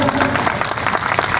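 A large crowd at an RCM company celebration event in Ranchi, Jharkhand, applauds loudly, with thick continuous clapping filling the hall and a voice faintly over it.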